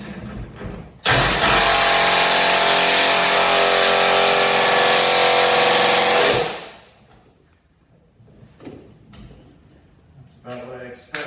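An impact wrench runs in one continuous loud whirring burst of about five seconds while installing a hitch on a Chevy Silverado 2500HD truck. The wrench then stops abruptly, followed by quieter clunks and handling noises.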